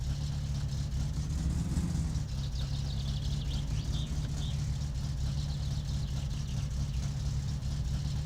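A car engine idles and rolls slowly forward over an inspection pit in the video game My Summer Car, giving a steady mid-pitched drone with a whir on top, loud and continuous, with no voices.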